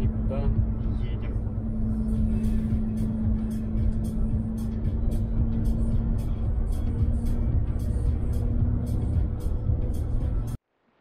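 A car drives slowly along a road on a warm summer day, its engine a steady low rumble with a constant hum that holds throughout, fairly close, before cutting off abruptly near the end.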